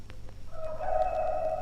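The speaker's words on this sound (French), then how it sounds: "Le chant du coq enroué" A hoarse rooster crows once from a farmstead at dawn, a short rough call swelling in the second half and holding its strained pitch, with a low steady hum underneath and no talk.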